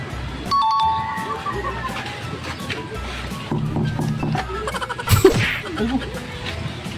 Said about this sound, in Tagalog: Doorbell. Doorbell naman pala.